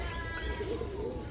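A young speckled pigeon coos near a rooftop loft, a few soft, low throaty coos with faint chirps in the background, close and continuous, no talk.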